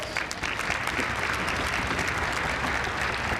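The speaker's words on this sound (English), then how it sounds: "Let's give her a round of applause." Audience applause at an awards gala celebrating a daughter's wedding day, a dense, steady wash of many hands clapping that fills the room evenly from start to finish without pause.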